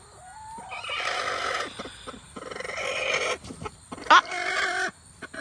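A molting hen in a nest box squawks and clucks loudly in repeated bursts, close by, with brief pauses between calls.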